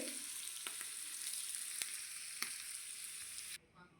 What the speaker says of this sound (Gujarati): આ બધો વઘાર આપણે આની ખાંડવી જે તૈયાર છે ને એની ઉપર રેડી દેશું આવી રીતે